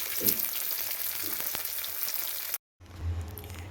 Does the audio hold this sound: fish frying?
yes